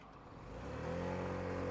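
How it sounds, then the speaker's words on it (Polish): A Junak XDV scooter's small engine revs up and accelerates away from traffic lights, its pitch rising then holding steady, moderately close, with no voices. "Wystarczy dodać gazu i maszyna już odpala i jedzie."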